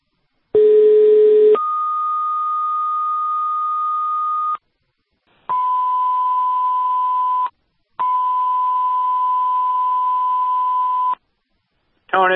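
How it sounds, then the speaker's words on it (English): Fire department dispatch alert tones for a second-alarm working house fire in Newfane, Vermont: a sequence of loud, clean sustained electronic tones, one short, then longer steady tones at shifting pitches, separated by brief silences. "Repeating, the tone is for Newbrook, striking a second alarm at number 10 Flynn Road in Newfane for a working house fire."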